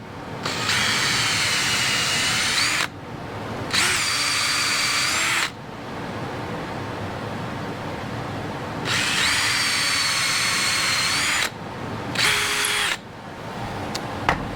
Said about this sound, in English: We'll drill a hole through here.